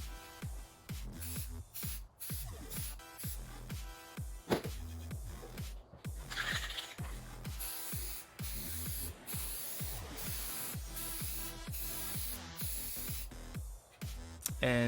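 A spray can lays a second, thicker coat of primer onto a Mustang SVO valve cover in short repeated hissing bursts, close and fairly quiet, with brief pauses between passes.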